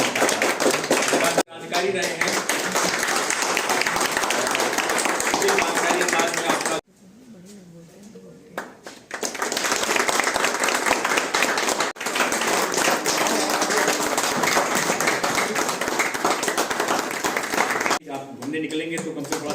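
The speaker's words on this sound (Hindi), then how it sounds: "आपकी तालियां बजती रहनी चाहिए।" Audience applause at a retirement ceremony for a railway electric plant worker, sustained dense clapping that fills most of the stretch, broken by brief pauses, with speech heard at moments.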